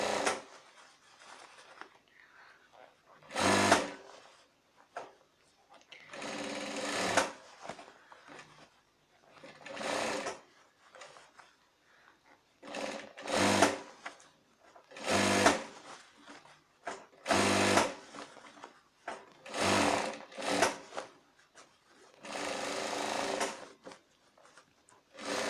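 Sewing machine topstitching a shirt seam, in repeated short bursts of fast stitching separated by quiet gaps, close and fairly soft, with a few handling noises between runs.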